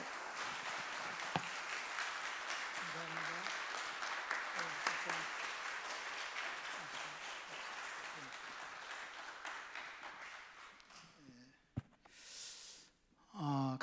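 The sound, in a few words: congregation applause welcoming the pastor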